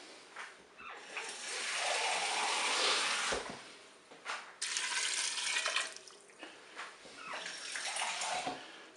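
Water pours steadily over still-frozen food in a cooking pot, a rushing splashing stream that pauses briefly and resumes in two more bursts.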